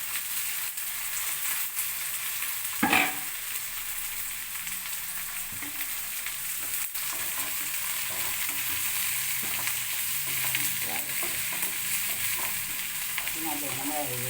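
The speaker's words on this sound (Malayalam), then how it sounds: "ഇതൊന്നും നമുക്ക് വഴറ്റാം" Green chillies and onions sauté in a pan while a beef roast is being made. A soft, continuous sizzle runs under occasional stirring scrapes, with one sharp knock near the start.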